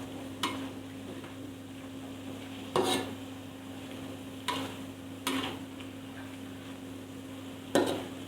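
Squid and chili being stirred in a pan: a utensil scrapes and taps the pan in sparse, separate strokes a second or two apart over a steady low hum of cooking.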